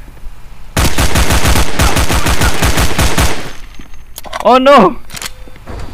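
Rapid automatic gunfire from a weapon in the MimiCry game rattles loudly and close for nearly three seconds in an even burst, followed by a brief spoken exclamation.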